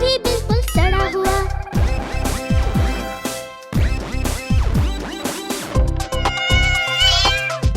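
In a Hindi children's rhyme about a cat, a cartoonish cat meows repeatedly in loud, drawn-out, wavering cries over bouncy music, close and prominent throughout.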